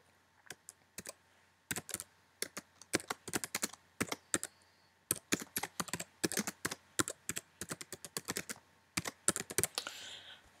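Quick bursts of keystrokes clatter on a computer keyboard as a title is typed, crisp close clicks arriving in uneven runs with short pauses between groups.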